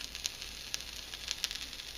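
A faint, steady hiss with a few short crackling pops as a hot styling tool is dragged slowly through hair, sizzling with steam, with no voices.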